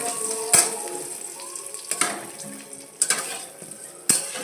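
Brinjal pieces frying in a pan and being stirred: a soft steady sizzle broken by a few sharp metallic knocks and scrapes of a utensil against the pan.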